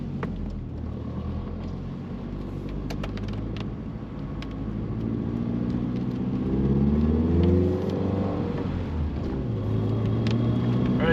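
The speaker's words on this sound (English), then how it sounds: "And the engine's starting to pick up now as well, with the ECU learning." A Mk3 Vauxhall Cavalier 2.0 16v, revived after years off the road, drives along with a steady engine drone that builds in pitch and loudness as it picks up speed, heard from inside with no talk.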